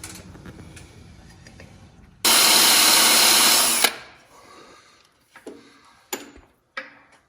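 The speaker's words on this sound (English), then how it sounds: "I waited until after I installed the bolt to drill the yoke for the safety wire" An electric drill whines loudly for about two seconds while boring through a steel yoke for safety wire on a 2020 Bicknell build, followed by scattered metallic clicks and taps.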